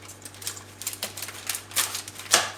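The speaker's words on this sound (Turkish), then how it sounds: "Şöyle arta kalan kısımları kesip kenara alacağım." Scissors snip through baking paper lining a cheesecake pan, giving a series of close, crisp cutting clicks and crackles in an uneven rhythm, the loudest cut near the end.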